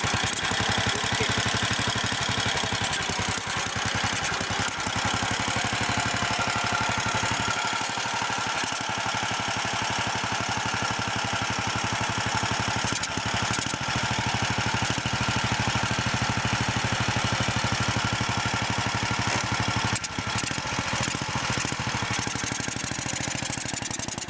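A 1942 BSA WM20 WWII army motorcycle engine runs steadily throughout, a loud, continuous close-up chugging with a knocking idle rhythm and vibration, no talk over it.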